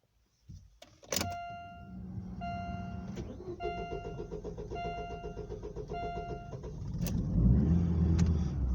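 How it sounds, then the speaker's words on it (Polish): A Daewoo Lanos cranks with a sharp click, then its engine catches and settles into a steady idle, with a faint whine and a few clunks, rising louder near the end. "już myślałem, że nie odpali nasz lanos"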